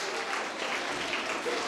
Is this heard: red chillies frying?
no